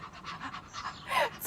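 A person imitates a dog panting in summer heat, giving quick, breathy, rhythmic huffs that build louder toward the end, heard close and alone.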